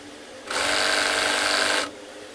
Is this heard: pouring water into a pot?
no